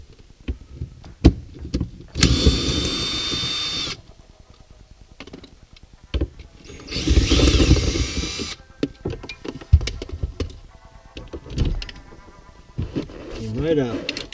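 Power tool loosening 8 mm bolts on a box, two loud whirring bursts of a few seconds each separated by quieter clatter and handling noise, with a voice talking in between.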